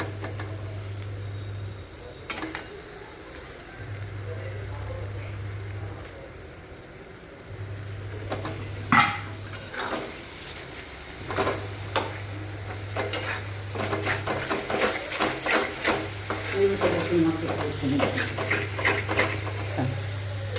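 Yogurt stirred into a cooking pan over low heat for dried mackerel chutney, giving a close, scraping stir with soft sizzling that grows busier and more clattery toward the end over a steady low hum.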